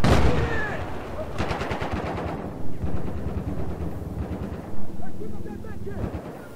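Loud bursts of automatic gunfire and heavy booms in Battlefield 4 on the Flood Zone map, rattling fire and a few thumping impacts, with a player's voice talking over the battle.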